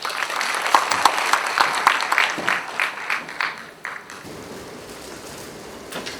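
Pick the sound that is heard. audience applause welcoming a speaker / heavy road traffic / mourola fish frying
audience applause welcoming a speaker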